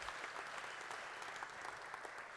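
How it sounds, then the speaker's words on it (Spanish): Audience applause fills a church men's retreat gathering, a steady, dense wash of clapping from many hands held at an even level throughout, fairly distant and reverberant, with no voices standing out. "Le da ese aplauso."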